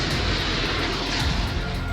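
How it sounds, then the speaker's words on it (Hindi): Indian Air Force fighter jets roar overhead during a rehearsal, a loud, continuous broadband rumble filling the sky without a break. "रिहर्सल के दौरान भारतीय वायुसेना के लड़ाकू विमानों की आवाज से आसमान गूंज उठा।"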